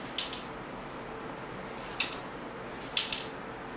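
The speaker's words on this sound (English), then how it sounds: "It sounds like a screw's loose in there." Loose screw rattling inside an IBM PC XT case as the unit is tipped: three short, bright metallic clinks, each followed by a small skittering tail, well spaced and close over a quiet room hiss.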